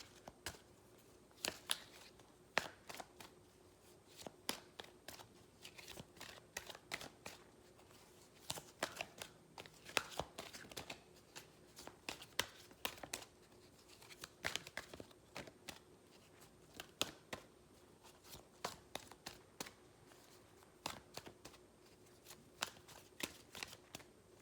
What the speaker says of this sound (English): I am going to pull an angel guidance card for you.